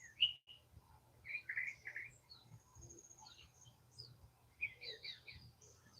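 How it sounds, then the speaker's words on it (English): Birds chirp and sing at dawn, short bright calls over a low steady hum, fairly faint and spaced out, with no talking. "Well, I hope the birds put you to sleep, Roger, and not my monologue."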